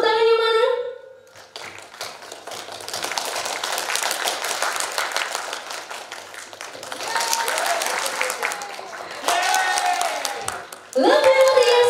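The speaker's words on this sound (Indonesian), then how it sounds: "Tepuk tangannya mana?" Audience applause at a school literacy presentation event, many hands clapping in a dense patter that swells louder in waves, with a host's voice and cheering voices heard at the start, middle and end.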